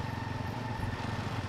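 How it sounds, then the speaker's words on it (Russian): A motocross bike engine in Watch Dogs drones steadily in the background, a low, buzzing hum that holds an even pitch without revving up. "Настоящий кроссовый мотоцикл."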